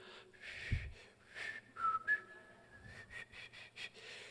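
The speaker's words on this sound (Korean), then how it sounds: "제가 늘 휘파람을 불러요." A man whistling a loose, wavering melody at close range, with breathy tones and short pauses between phrases.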